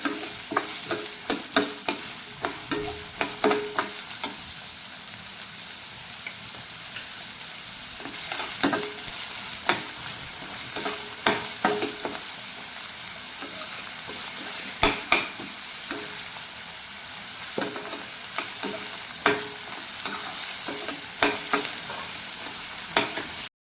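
Onion frying in oil while being stirred, a steady close sizzle punctuated by repeated sharp scraping clicks of a spoon against the pan, with no talking.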